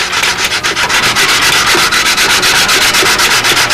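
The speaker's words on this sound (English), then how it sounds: "took a stick, put some sticky back sandpaper on it, let the spreader bar hold it apart" Wood being sanded with sticky-back sandpaper stuck to a stick while building a Brodak Nobler model airplane. It makes a steady, close, rasping scrub with a quick back-and-forth rhythm, heard alone.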